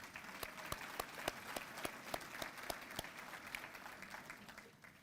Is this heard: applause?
yes